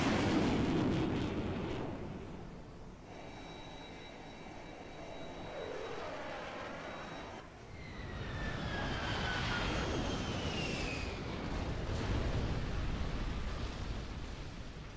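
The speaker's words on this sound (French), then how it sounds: "Frappe aérienne lancée." Air strike explosions in the video game Command and Conquer Generals boom loudly and roll into a long rumble, with jet aircraft roaring and whining overhead as the blasts swell, fade and build again.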